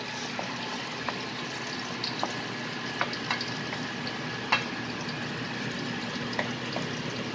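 Garlic (bawang) frying in a pan while cooking bopis gives a steady sizzle, close and even throughout, with occasional sharp clicks of stirring.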